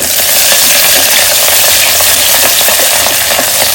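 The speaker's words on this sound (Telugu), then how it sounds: "అలాగే కట్ చేసి పెట్టుకున్న ఉల్లిపాయలు పచ్చిమిర్చి ఒకసారి మిక్స్ చేసుకోవాలి" Chopped onions and green chillies with a bay leaf are stirred in a very hot pan, producing a loud, dense, continuous sizzle with faint rhythmic scraping woven through it.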